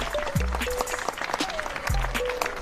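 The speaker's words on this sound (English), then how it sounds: "and bow, accepting the applause of the crowd." Crowd applause for a group of seven parkour and bike performers in a plaza in front of Coventry's Motor museum, a steady clatter of clapping with faint voices mixed in.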